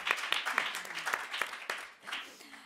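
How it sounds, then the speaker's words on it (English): An audience applauds after a round of applause is requested at a talk on the ethical and social impact of technology, a steady patter of clapping held at a soft, somewhat distant level, with faint voices under it. "So I'll ask for a round of applause for all of them"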